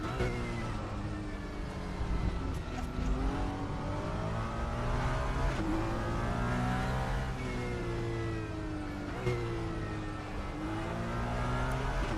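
Race car engine in the RaceRoom racing game, droning steadily and loud throughout with rising pitch sweeps as it accelerates through gears, repeated upshifts every couple of seconds.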